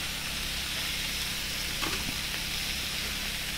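Frozen fajita-seasoned sliced beef sizzling and frying in hot oil, a steady close broadband crackle and hiss with a brief flare of popping midway, no voices over it.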